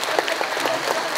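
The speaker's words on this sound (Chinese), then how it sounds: "要给我们的孩子一个掌声好不好？" Brief, lively applause from an audience at a kindergarten graduation ceremony, clapping for the children, a dense patter of many hands without a break.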